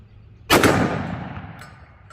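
A single sharp gunshot from a 1911 pistol firing .40 Super Underwood 200-grain XTP jacketed hollow point ammunition, a loud close crack with a ringing decay trailing off over about a second and a half.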